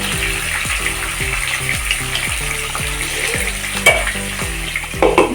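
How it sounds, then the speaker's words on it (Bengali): Pointed gourd and potato pieces frying together in a pan, a steady loud sizzle with repeated scraping strokes of a spatula and a low humming drone underneath. "এইভাবে করে আমি পটল ও আলুগুলোকে ভেজে নেব"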